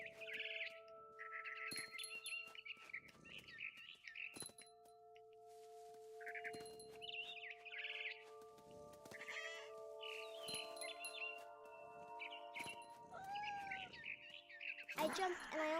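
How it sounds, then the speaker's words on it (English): In the video game What Remains of Edith Finch, a barn swallow chirps in repeated short tweeting bursts over a quiet game soundscape with sustained tones, ending in a louder flurry. "Then I heard chirping outside my window. It was a barn swallow going back to her nest."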